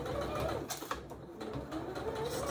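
A sewing machine stitches all the way around a scrubs hat, a continuous mechanical whir with fast, uneven needle chatter that briefly eases midway before resuming, heard close with no talking.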